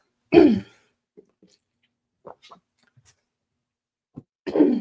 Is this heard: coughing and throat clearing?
yes